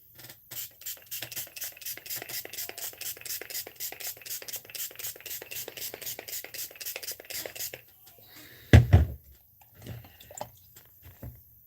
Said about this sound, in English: And then spray my face with some of my Fix spray.